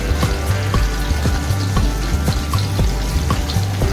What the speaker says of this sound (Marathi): हे सगळं मिडियम गॅसवर फ्राय करून घ्यायचे तळून घ्यायचे